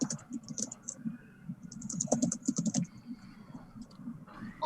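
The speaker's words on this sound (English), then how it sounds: "when I type on my keyboard, it comes up in the background fairly prominently" Quick, soft keystrokes clatter on a computer keyboard, irregular bursts of close clicking in the quiet background of a podcast recording, with no talk over it.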